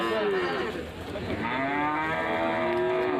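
A large bull at Manjeri cattle market lets out a long, loud low moo close by, the call rising and holding for a few seconds over light background bustle.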